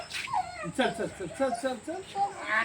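Dogs at a village home whimpering and yipping excitedly while playing, several high whines and short yelps close by, mixed with people talking.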